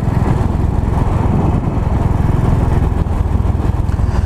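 A Royal Enfield Bullet motorcycle rides through town in the early morning, its single-cylinder engine thumping loudly and steadily at close range with continuous rumble and wind noise throughout.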